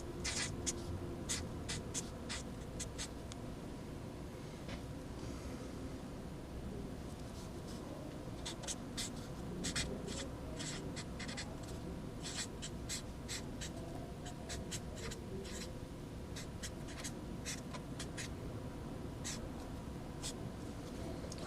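Marker or pen writing out a math function on a board, a long series of short scratchy strokes in quick bursts with brief pauses, close and quiet, over faint background hiss.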